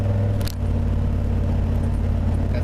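A Suburban truck engine rumbles steadily while driving, a loud, close, continuous drone with a brief dip in level early on.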